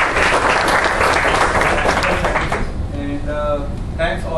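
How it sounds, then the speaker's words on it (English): An audience applauds in a room during a business breakfast, a dense burst of clapping for about two and a half seconds that then thins out as a voice begins talking. "Can we give them a big round of applause?"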